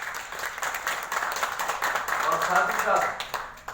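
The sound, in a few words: audience applause for a visiting delegation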